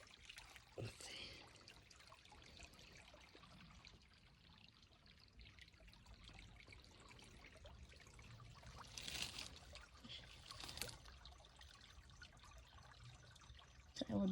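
Spring water bubbling up from the ground in Seminole State Forest, a faint continuous trickle and gurgle with a few slightly louder splashy swells.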